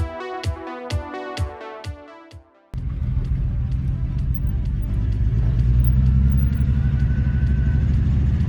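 A Datsun car's engine runs steadily during a test drive, a low continuous rumble that swells slightly as it goes, preceded by a few seconds of plucked music.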